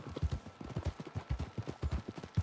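Horse hooves clip-clop steadily across ground in Red Dead Redemption 2, a quick, even rhythm of close, distinct footfalls with no voices over them.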